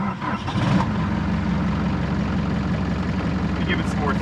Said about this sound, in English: It's running really low.